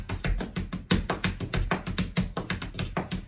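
Quick percussive taps of shoes on a hard floor in Appalachian flatfoot dancing, a busy rhythmic pattern of heel and toe strikes with no voices.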